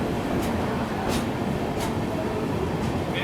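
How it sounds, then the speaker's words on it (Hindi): The Pawan Express, a Jaynagar–LTT mail express, rolls along the adjacent track at a station platform, a loud continuous rumble with faint periodic clacks and no voices. "बगल में ये आ गई अभी पवन एक्सप्रेस जयनगर LTT"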